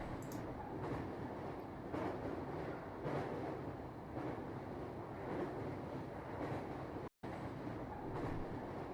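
Video game train rolling along the tracks, a steady rumbling ride with faint rhythmic clicks from the rails, broad and continuous for several seconds, with one brief cut to silence near the end.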